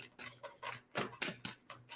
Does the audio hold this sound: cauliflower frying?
no